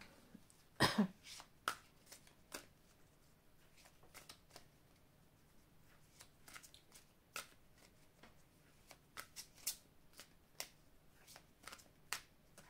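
Tarot cards being shuffled and drawn, giving a quiet run of crisp riffling flicks and soft card snaps spread irregularly across the span, with one louder burst near the start and no talking.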